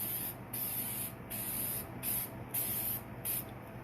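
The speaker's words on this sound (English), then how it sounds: "I'm going to spray this entire stencil." Bursts of 3M Super 77 spray adhesive hiss onto a stencil in roughly six short, close passes with brief gaps between them, clear and alone with no talk.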